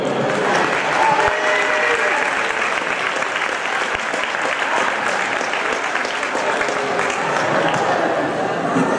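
Sustained applause from the audience at the 2013 final of the seventh Memorial Sartori tournament, steady, dense and fairly loud throughout with no pauses.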